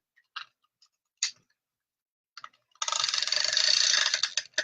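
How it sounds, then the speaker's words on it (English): A tape runner rolled across a paper strip while making a greeting card, heard first as a few sharp isolated clicks, then a loud continuous ratcheting rasp lasting over a second, close up. "So I'm just going to take my tape runner."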